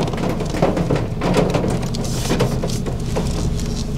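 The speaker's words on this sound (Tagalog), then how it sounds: "Lisod kayo igawas nga ni panahon kay inday-inday ang ulan." Intermittent rain falls in Davao City as a steady, dense hiss of drops on surfaces, holding an even level for the whole stretch with no voices.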